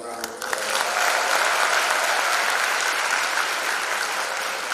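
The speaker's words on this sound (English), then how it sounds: "Give them another round of applause." An audience at a class of 2021 graduation ceremony claps in a sustained, even round of applause that swells quickly and stays loud throughout.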